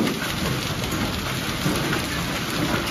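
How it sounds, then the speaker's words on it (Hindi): Hail and heavy rain drum down during a storm in a continuous, loud rush of dense impacts with a low rumble beneath, and no voices. "अरे भाई ओले ओले देखो"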